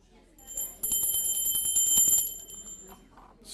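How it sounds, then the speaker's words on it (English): A bell rings out clearly, a sustained metallic tone with a bright shimmer, at a Tuesday morning church Bible study, with a voice speaking briefly around it. "Second bell."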